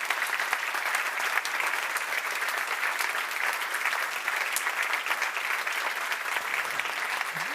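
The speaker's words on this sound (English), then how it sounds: "So a big round of applause for all of these incredible partners." Sustained applause from an audience at a science summit award ceremony, an even, dense wash of clapping with no pauses, filling the whole stretch at a steady level.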